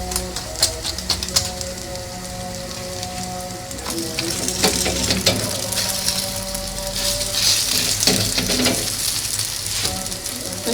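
Malwi dough made with lard sizzles steadily in a large frying pan, a continuous crackling fry with occasional sharper pops and clicks throughout.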